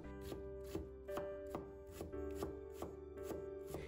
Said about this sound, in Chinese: 再把它切成洋葱丁